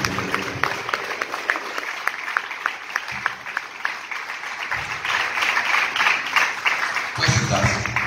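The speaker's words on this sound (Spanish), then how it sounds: "Denle un aplauso a Jesucristo" Applause from a congregation at a church liberation congress, a steady crowd of clapping that swells louder toward the end, with a voice speaking over it at times.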